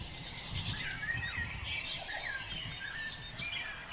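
A zoo bird with a yellow crest and curved beak gives repeated high chirps and whistled calls, thin and fairly near, over a steady rushing background of outdoor noise.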